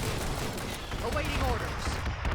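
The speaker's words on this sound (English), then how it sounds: "Fill the air with flak." Dense, continuous flak fire in Starship Troopers: Terran Command, a steady roar of overlapping anti-air bursts filling the whole clip, with a voice speaking over the battle noise.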